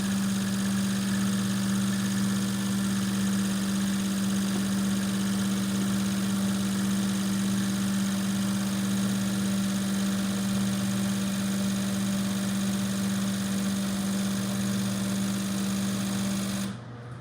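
A steady mid-pitched engine-like drone holds evenly throughout, loud and continuous with a strong low hum, from an idling engine or test rig running while fuel injectors are flow tested; it cuts off abruptly near the end.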